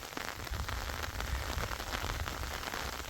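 Heavy storm rain pours steadily over a navel orange orchard during harvest, a dense, continuous close hiss with a low rumble underneath and no voices.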